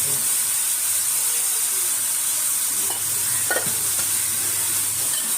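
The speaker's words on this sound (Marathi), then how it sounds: "हेही चांगलं तीन चार मिनटं परतवून घेऊया" Chopped onion and tomato sauté in a pan for vermicelli upma, giving a steady, close sizzle with a few soft stirring scrapes and no talking.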